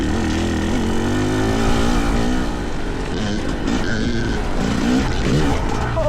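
A Yamaha YZ250 or Fantic XE300 dirt bike with a worn silencer needing repacking, its engine droning loud and steady throughout, with rising and falling revs as it rides off-road in Colorado.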